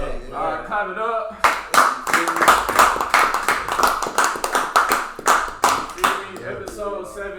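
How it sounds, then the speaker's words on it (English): A few people on a podcast set clap in a loose, uneven burst of distinct close hand claps, with talking and laughter at the start and end and voices mixed in underneath. "clap it up."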